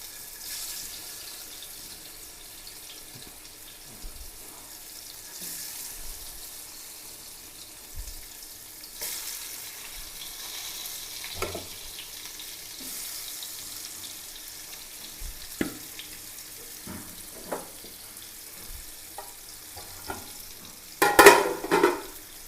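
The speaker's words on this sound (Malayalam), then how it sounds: "ഏതായാലും മൂന്നാല് കഷ്ണം വറുക്കാം" Marinated sardine pieces frying in a pan give a soft, steady sizzle with scattered small pops and taps, ending in a louder clatter near the close.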